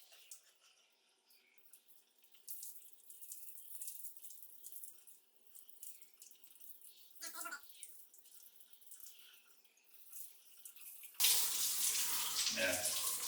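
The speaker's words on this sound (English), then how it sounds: "this is like an 8-inch rain shower head" Water runs from an 8-inch rain shower head in a glass-panelled shower, a faint hiss that swells into a louder steady spray near the end, with speech in the background.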